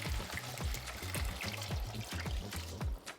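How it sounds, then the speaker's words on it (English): Water poured from a container into a pot of lentil soup, a steady broad splashing pour with rhythmic low gurgles and glugs running continuously, close and fairly loud, with no talking. "And then we're gonna pour in our water."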